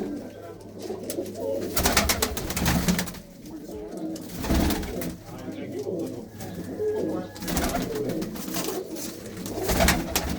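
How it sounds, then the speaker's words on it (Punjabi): Pigeons coo steadily in a loft or yard, low rolling calls close by, broken by several sharp bursts of flapping or handling noise and light speech in the background. "ਬਹੁਤ ਚੰਗੇ ਚੰਗੇ ਵਧੀਆ ਕਬੂਤਰ ਨੇ ਬਾਈ ਜਿਹੜੇ ਤੁਸੀਂ ਦੇਖ ਰਹੇ ਹੋ"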